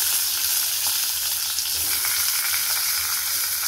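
Raw mango pieces sizzle steadily in a hot pan after a tempering of five spices, a dense, continuous frying hiss that stays loud and even throughout with no talking.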